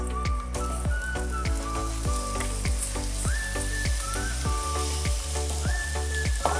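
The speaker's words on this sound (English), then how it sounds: "once the olive oil is up to temperature, we're gonna tip in all of the Spam" Spam tipped into hot olive oil in a pan sizzles and crackles steadily, with repeated sharp pops and spits and occasional clinks of a utensil, close and moderately quiet with no talking.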